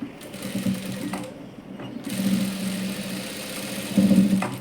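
Sewing machine stitching palazzo pants fabric, close mechanical rattling bursts with brief pauses between runs of stitches.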